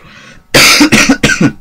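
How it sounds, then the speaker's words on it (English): Three harsh, loud coughs in quick succession from a person, each a short explosive burst, preceded by a quiet moment with faint background noise. "Sorry, I have a cough."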